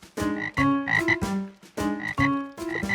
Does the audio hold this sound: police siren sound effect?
no